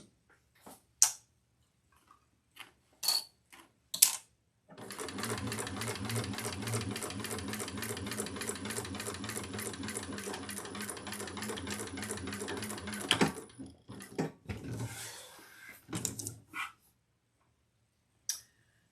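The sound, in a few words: sewing machine stitching a handbag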